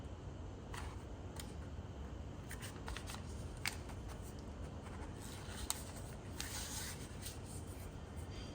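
A sheet of paper being folded in half, with soft, quiet rustling and a few light crisp creases over a faint steady background hiss.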